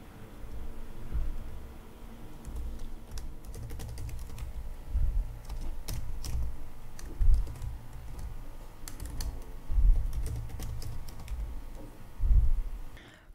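Keys clatter on a computer keyboard as HTML code is typed, a close, irregular run of soft clicks with small bursts and pauses over a quiet room.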